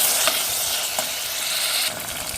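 Browned onions and tomato paste fry in a pan for a green lobia and potato curry, giving a steady, close sizzle broken by a few soft stirring scrapes.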